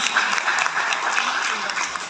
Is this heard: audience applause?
yes